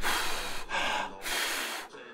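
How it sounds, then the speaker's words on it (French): A person breathes heavily while catching breath, three long, loud, close gasping breaths in and out with short pauses between them and no talk. "faut que je reprenne ma respiration"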